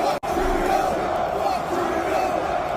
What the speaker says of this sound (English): I just want to show it to you so you can hear what the crowd was saying.